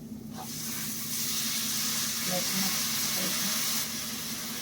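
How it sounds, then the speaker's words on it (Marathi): Water hits a hot pan with a loud, steady hissing sizzle lasting a few seconds, a faint voice murmuring underneath. "आणि याच्यात थोडे पाणी टाकणार आहे, थोडं जास्त नाही."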